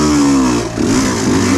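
An enduro motorcycle fitted with a Rekluse auto clutch rides a trail, its engine loud and close, holding a steady mid-pitched drone with a brief dip and rise in revs, no voices.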